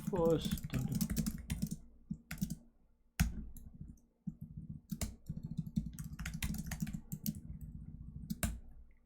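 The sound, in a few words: typing code on a computer keyboard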